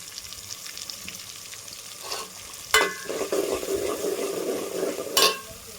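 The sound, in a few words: boiled peas added and cooked in a pan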